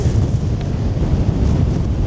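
Strong, constant wind buffets the microphone with a loud, low roar and no pauses, with faint surf beneath it, at Bondi Beach in Sydney, Australia.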